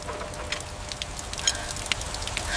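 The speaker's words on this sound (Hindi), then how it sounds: "बारिश आ गई" Steady rain patters down in a rural setting where wheat and a machine sit outdoors, a soft continuous hiss with scattered light drops, fairly quiet and with no voices.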